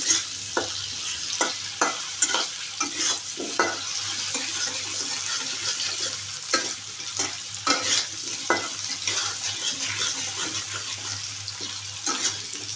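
Potatoes frying in oil until reddish, a steady close sizzle broken by intermittent scrapes and taps of a spatula stirring in the pan.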